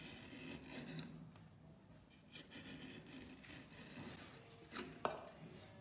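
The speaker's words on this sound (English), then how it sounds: "use the safety beveler and we're just gonna work our way around the edges first" A safety beveler skives the edges of leather built up on a shoe last, giving soft, uneven scraping and rubbing strokes with a few small clicks, faint and close.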